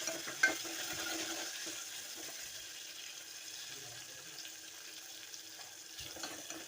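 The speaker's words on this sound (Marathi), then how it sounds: "आता आपण आमसुलाचं पाणी घालणार आहे यात" Kokum water is poured into a hot pan where kokum has been sautéed in oil, making a soft continuous splashing and sizzling hiss, close and fairly quiet, with a small clink near the start.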